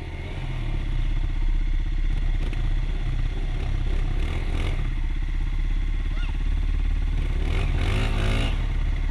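A dirt bike engine roars loud and close as the rider gives it gas on a muddy spring trail, the revving steady with clattering and surging pitch, while voices call out over it.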